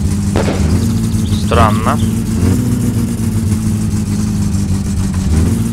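An old car's engine idles and revs with a low, steady rumble in My Summer Car, swelling briefly with mechanical clunks and whines, as someone speaks over it.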